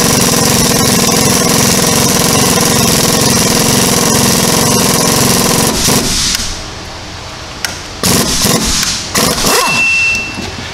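An air impact wrench hammers loudly and continuously while removing a ball joint on an SUV or truck, then stops about halfway through. After that come quieter mechanical clanks and a few short bursts, all close up.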